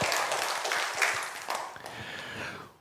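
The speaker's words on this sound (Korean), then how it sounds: "하나님께 영광의 박수 올려드리겠습니다." Congregational applause at a Korean church service, the Jeongung Church, broad clapping that swells and eases over a few seconds before fading out, fairly close and filling the room.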